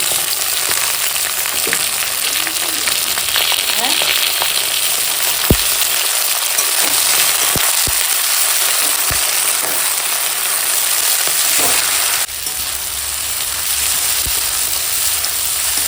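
Onion, green chilli, ginger-garlic paste and tomato frying in oil, a dense, loud hiss like rain, with occasional clicks and scrapes of stirring throughout.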